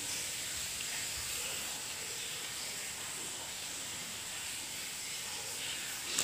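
A pot of goat intestine curry, spiced with coriander powder, simmers steadily with an even, continuous hiss of bubbling and steam at moderate volume throughout.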